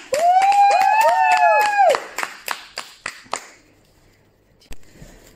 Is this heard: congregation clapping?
yes